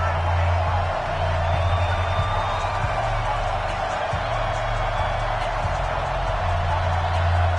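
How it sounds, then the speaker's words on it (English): Simulated stadium crowd in a Madden football video game, Eagles versus Giants before kickoff: a dense, steady roar of fans with scattered cheers, continuous throughout under a low musical hum. "This crowd is ready as their guys get set to match up between the Philadelphia Eagles and the New York Giants"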